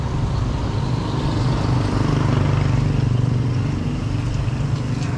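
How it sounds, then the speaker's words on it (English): Motorbikes and other traffic passing along a town street in Puerto Galera, Oriental Mindoro, Philippines: a continuous close engine drone that swells slightly in the middle, then eases, with no talk. "More motorbikes."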